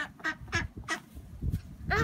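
Ducks quacking close by as they are fed at a lake, a run of loud, repeated nasal quacks from several birds crowding in.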